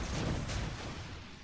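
Secondary guns of the French battleship Alsace fire in World of Warships, a quick pair of sharp booming blasts over a dense rumbling battle background.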